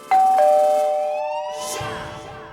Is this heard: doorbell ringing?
yes